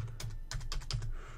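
Fingers tapping answers into a calculator, five or six quick close key presses in a light irregular rhythm, faint and alone.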